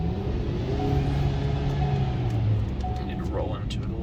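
A tuned 2022 Ford Maverick with added boost pulls hard in fourth gear, its engine rumbling loud and steady from inside the cab while a voice talks over it.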